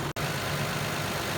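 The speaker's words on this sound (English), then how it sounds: "Okay, the car has been running for a little bit now." A Lexus RX 300 engine idling after a coolant change, a steady low hum with a brief dropout near the start, otherwise even and continuous at moderate volume.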